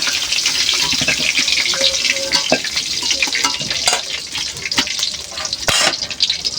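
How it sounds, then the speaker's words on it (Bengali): Eggplant pieces frying in hot oil in a home kitchen for a Bengali koi fish curry, a continuous loud sizzle with crackles and occasional sharper pops, close by and without talk. "এই তেলে বেগুনগুলো হালকা করে ভেজে নেব।"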